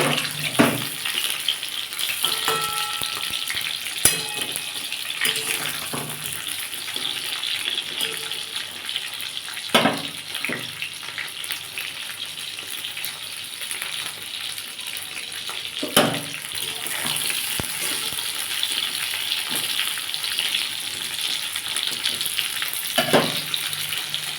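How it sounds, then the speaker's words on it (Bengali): Pointed gourd pieces frying in hot oil in a wok, a dense continuous sizzle and crackle with scattered sharper pops, moderately loud and close, no talking. "দেখুন বন্ধুরা আমার পটলটা ভাজা হয়ে গেছে"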